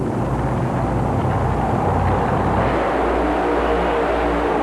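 A nitrous oxide powered race vehicle at a 1991 USHRA motorsport event roars loud and continuous, a deep rumbling engine drone with heavy low-end that holds steady throughout.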